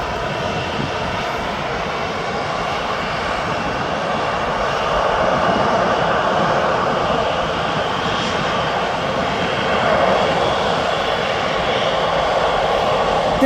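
A Cessna Citation jet crossing overhead near Birmingham Airport: a steady, broad engine roar that swells slightly midway and holds loud throughout, with no talking.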